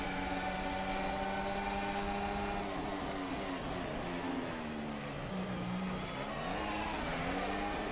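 Formula 1 race cars from the rFactor 2 racing game roar through the Monaco tunnel, a sustained loud engine whine whose pitch rises and falls with gear changes and overlapping cars, steady throughout.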